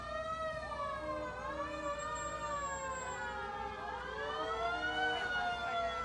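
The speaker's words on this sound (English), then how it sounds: "Who doesn't like a good fire siren?" A wailing fire truck siren rises and falls continuously, steady and moderately loud, with faint traffic rumble underneath, during a Memorial Day parade.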